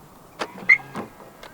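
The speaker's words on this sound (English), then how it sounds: "To lock the car, press the indented area on the driver's side door handle." A few short mechanical clicks and a brief electronic chirp as a 2025 Jaecoo J8 locks via its keyless door handle, quiet and close with no talking.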